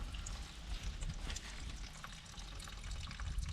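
Water trickles and splashes steadily from a disconnected fuel line on an abandoned police motorcycle recovered from a swamp, close and continuous with a faint hiss.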